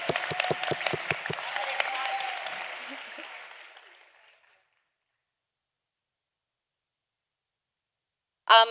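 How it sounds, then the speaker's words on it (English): A school drama audience applauds their drama teacher, a dense burst of clapping with sharp early claps that fades out over about four seconds, followed by silence and a brief loud sound at the end. "Let's give Mrs. Volpe a round of applause."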